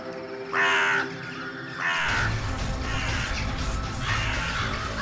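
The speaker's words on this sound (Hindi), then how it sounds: "इतने सारे कौवे।" Crows caw in a series of loud, raspy calls, with a few distinct caws up front followed by a dense, noisy stretch of overlapping cawing and rustle.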